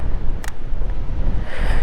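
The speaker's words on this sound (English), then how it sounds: "Oh my god, it's so windy!" Strong wind buffets a microphone during a motorcycle ride on Glacier National Park's Going-to-the-Sun Road, producing a loud, gusty low rumble with brief bursts of higher noise and no talk.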